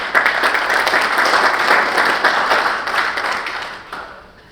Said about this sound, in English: give yourselves a round of applause for taking the time to get here today